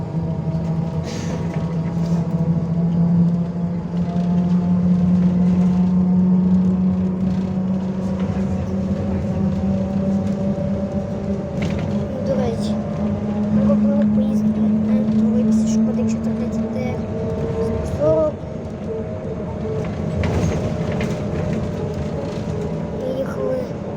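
Steady interior ride aboard a Škoda 14Tr trolleybus: a continuous electric motor whine rising and falling in pitch with speed, over a constant rumble of road and cabin noise, with occasional rattles and bumps.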